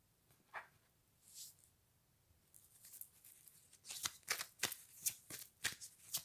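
Tarot cards shuffled by hand in a quiet room, starting with a few soft isolated riffles and building into a rapid series of crisp, close, fairly loud shuffling bursts.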